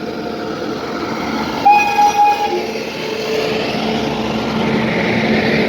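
Dhanbad–Kolhapur DeekshaBhoomi Express arriving at Pandharpur station: a loud two-part horn blast sounds over the steady rumble and clatter of the moving train.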